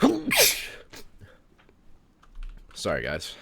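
A sharp sneeze bursts out at the start, followed by a soft apology and quiet keyboard typing, then a voice sings out briefly near the end.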